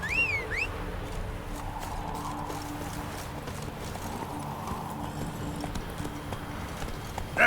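The Witcher 3's horse Roach clip-clops along a straight country road, its steady hooves faint and continuous under a quiet ambient background, with a brief bird-like chirp at the start.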